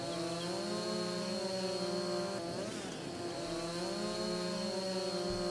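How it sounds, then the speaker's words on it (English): A chainsaw cuts down trees in No Man's Land, with a loud, continuous buzzing motor drone and a brief dip in pitch midway as it bites into the wood, with no talking. "So let's go ahead and buy ourselves a chainsaw."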